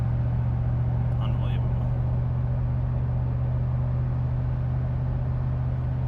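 Lexus GX470 V8 with muffler delete cruising at about 65 mph, a steady low droning exhaust hum with continuous road rumble, while a man exclaims briefly.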